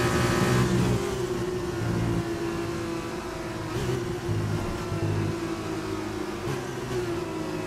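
An F2 race car in F1 2020 at Silverstone drones with a steady mid-pitched engine note that wavers and dips without clear revving, continuous and fairly loud with no speech.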